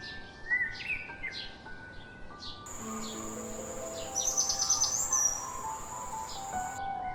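A Blue-winged Leafbird sings a run of bright whistled chirps and warbles from the forest canopy, coming in close, irregular phrases over a faint background hiss.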